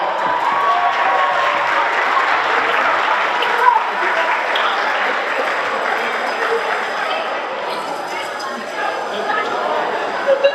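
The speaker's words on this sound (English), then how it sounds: "Round of applause for Bravo." Crowd at a high school JROTC military ball gives a round of applause, dense steady clapping mixed with cheers and chatter for about ten seconds, easing toward the end.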